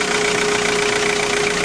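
Engine ticking over at idle after cleaning, a steady close hum with a constant tone and a faint regular knock, unchanging over the short stretch.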